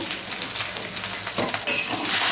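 Cooked rice seasoned with black pepper powder and sugar fries in a pan for fried rice. A constant hissing sizzle runs under repeated scraping and stirring strokes, with a brighter crackle near the end.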